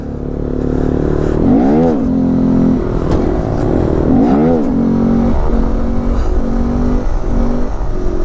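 A Honda Grom motorcycle fitted with a DHM ECU and throttle body cam is revved hard twice in sharp rising-and-falling bursts, loud and close over a steady idle, before a lighter blip toward the end.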